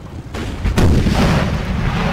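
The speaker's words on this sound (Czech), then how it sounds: "Tady mimochodem máme nějakou devíti, čtyřliberní koňskou artilerii, francouzskou." French horse artillery, nine-pound guns of the Grande Armée in Napoleonic Total War 3, fires a single loud cannon boom whose deep rumble rolls on and lingers for over a second.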